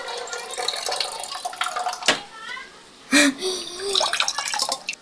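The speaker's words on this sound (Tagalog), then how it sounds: "So, itapon na yung tubig." Water from cooked rice splashes out in a couple of brief gushes, close by, with a person talking around them and quieter trickling in between.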